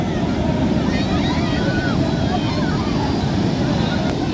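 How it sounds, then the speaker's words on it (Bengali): Sea waves wash up onto a beach in a loud, continuous rush of surf mixed with heavy wind buffeting the microphone. "আজকে ঢেউ একদম এইখানে চলে এসছে"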